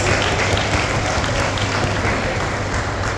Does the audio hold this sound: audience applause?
yes